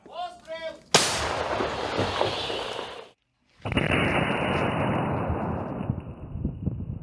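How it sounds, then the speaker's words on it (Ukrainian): A heavy 122 mm artillery shell blast booms and rolls on, a brief silence follows, then a second loud shell impact rumbles with sustained roaring debris noise. "ось так виглядає приліт 122-го калібру"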